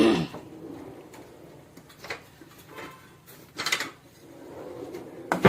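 Moong dal dry-roasting in a pan on the stove, with intermittent clinks and scraping rattles of a utensil stirring the lentils against the metal, separated by quiet stretches and with no voices.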